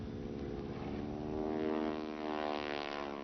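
The vintage bomber Sally B takes off at the Biggin Hill air show with a steady, droning propeller engine roar at moderate distance, continuous throughout.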